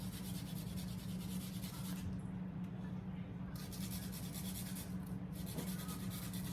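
Onions are grated over a bowl in a kitchen, making a continuous close rasping scrape with a couple of brief pauses in the strokes.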